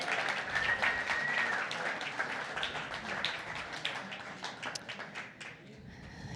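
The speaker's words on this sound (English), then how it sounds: "How about another round of applause for Ryan?" Pub talk audience at an EDCO gathering gives Ryan another round of applause. The steady crowd clapping lasts several seconds at moderate loudness, then thins toward the end.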